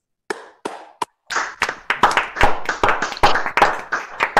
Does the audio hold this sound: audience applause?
yes